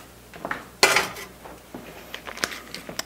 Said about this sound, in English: So we're gonna throw this on the stove,